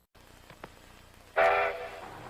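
A 100-ton railroad car and train in a rail setting: quiet rumbling, a few faint clanks, then a loud, sustained horn-like blast that fades.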